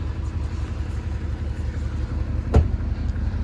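An Audi SQ7 4.0 TDI V8 with its factory quad exhaust idles nearby with a steady deep rumble, broken by one sharp click near the end.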